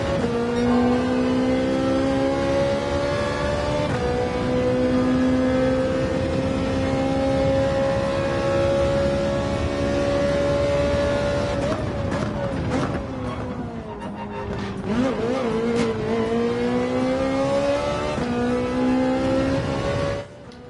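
A Nissan Silvia S15 engine in Gran Turismo 7 holds a loud, sustained high drone, with pitch rising through gear changes, briefly dipping and revving back up before cutting off at the end.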